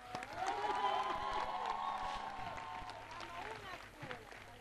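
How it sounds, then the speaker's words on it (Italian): An audience applauds the Liceo Francesco Severi school orchestra at its 2022 Christmas concert in Castellammare, a spread-out, moderate clapping and light cheering under someone speaking loudly into a microphone. "vorrei un altro e ultimo applauso per la nostra orchestra"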